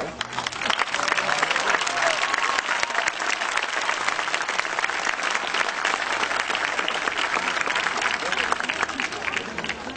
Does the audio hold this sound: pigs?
no